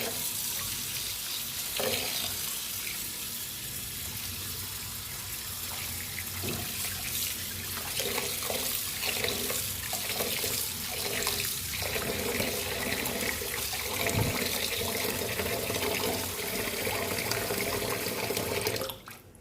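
Tap water runs steadily into a pot while rice is being washed, with swishing, stirring and splashing of grains through the water, continuous and fairly close before cutting off at the end.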